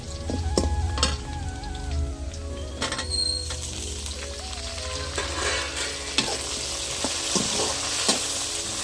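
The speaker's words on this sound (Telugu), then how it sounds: "ఉల్లిపాయలు పట్టి మంచిగా వేగినాయి కదా. టమాటా పండు వేసుకున్నాము." Onions and chopped tomato fry in a pan for a Rayalaseema-style uggani dish, a steady close sizzle broken by irregular scraping and stirring clicks of a utensil against the pan, with no talk.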